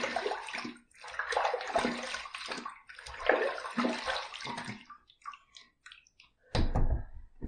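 Water runs and splashes over a Yates 921M safety razor with a hybrid plate as it is rinsed, two bursts of close, gurgling flow followed by scattered drips and a final short splash.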